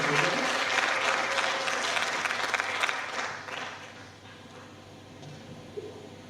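Audience applause at a Catholic memorial lecture in Nakuru, a dense, loud roomful of clapping that fades toward the end, with only scattered claps remaining.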